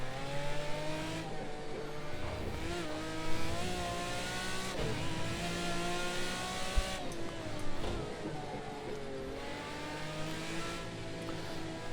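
A McLaren F1 Long Tail GT1 race car engine in Project CARS 2 at Sugo screams steadily, pitch rising and dipping through gear changes, loud and continuous with no talking.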